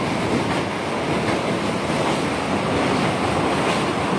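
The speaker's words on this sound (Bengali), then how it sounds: "যাত্রাপথে ট্রেনটি গাইনদী ব্রিজ ক্রস করে।" A passenger train rumbles steadily across the Gainadi river bridge on the Dibrugarh line, a dense continuous roar of wheels on rails with no voices.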